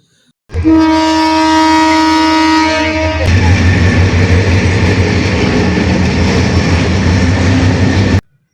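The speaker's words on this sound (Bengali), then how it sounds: "লালমনিরহাট কমিউটার লোকাল ট্রেনটি রংপুর থেকে লালমনিরহাটের উদ্দেশ্যে ছেড়ে গেল" The Lalmonirhat Commuter local train pulls out of Rangpur station, opening with a long, loud sustained horn blast that cuts off into the heavy rumble and clatter of the moving train, continuing strongly until it ends abruptly.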